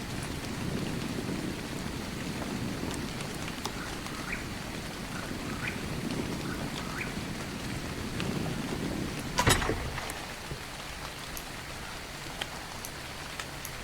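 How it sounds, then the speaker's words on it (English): Steady rain falling in the video game ARK, a continuous soft hiss with scattered drips and a brief louder splash or rumble near the end, no talking. "It's still raining."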